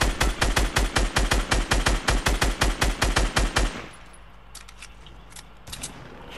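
Rapid automatic gunfire from Fortnite, a steady burst of evenly spaced loud shots lasting several seconds, then cutting off to quiet ambience with a few faint scattered sounds.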